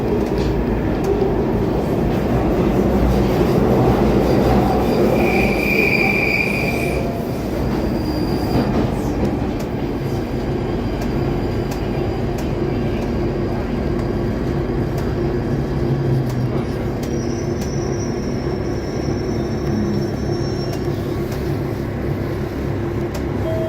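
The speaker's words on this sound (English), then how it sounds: "This is the Northern Line train via Bank, terminating at Edgware." A London Underground Northern Line train pulls into Clapham North on a narrow island platform, with a steady loud rumble of wheels and carriages, brief high wheel squeals and a rising whine near the end.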